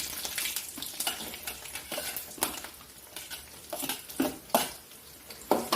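Grated coconut fries in a pan with a soft, quiet sizzle, punctuated by intermittent scraping and stirring taps at close range.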